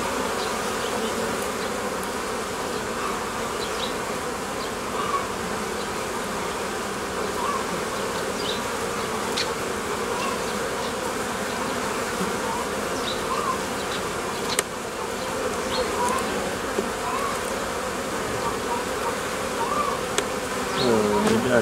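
Honeybees buzz steadily as beehive frames are opened and pulled apart, a dense, continuous drone from a large number of bees close by, with occasional faint knocks and clicks from handling the hive.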